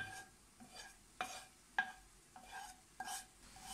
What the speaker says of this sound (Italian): Accendiamo la fiamma, la teniamo bassa e facciamo rosolare questo peperoncino